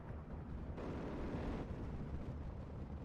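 Mortar artillery fire in the wartime strategy game Steel Division 2, heard as a steady, muffled roar of distant blasts and rumble that swells briefly in the middle, with no clear separate shots.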